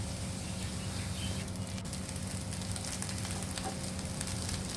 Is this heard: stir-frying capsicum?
yes